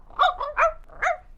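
A dog in a children's fairy tale gives four quick, close barks in a rapid burst, clear and alone.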